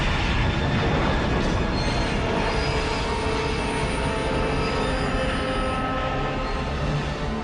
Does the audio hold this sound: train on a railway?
yes